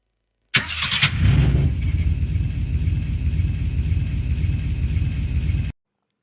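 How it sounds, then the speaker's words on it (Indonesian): A truck engine roars to life, starting with a sharp burst and settling into a loud, steady, throaty rumble that holds for about five seconds before cutting off abruptly, as a sound effect in a horror audio drama. "Mesin meraung, nada balik truk bergema keras, memecahkan kesunyian yang memakan telinga."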